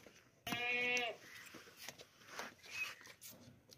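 A plump, healthy goat at a goat sale gives one loud, close bleat lasting about half a second, followed by quieter rustling and faint animal and background sounds.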